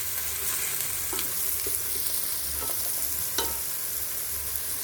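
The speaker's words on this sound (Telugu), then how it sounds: "పచ్చివాసన పోయే వరకు అల్లం వెల్లుల్లిపాయని బాగా వేయించుకోవాలి" Ginger-garlic paste fries in a pan with a constant close sizzle, while a spoon scrapes and stirs in a few soft strokes over it.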